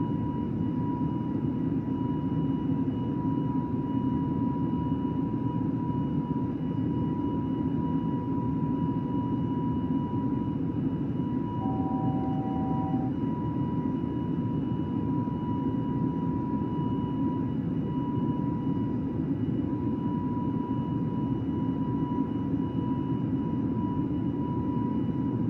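Airbus A320 engines at climb thrust in Microsoft Flight Simulator, a steady, continuous low roar with a faint constant tone on top, unbroken throughout.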